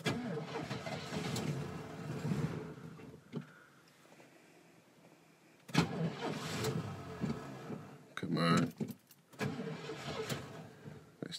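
A car engine cranks in the cold and catches with a rough, uneven rumble, stumbling and surging in several bursts, fairly close, with a dip into near quiet midway before sputtering back.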